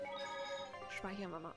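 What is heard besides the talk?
telephone ringing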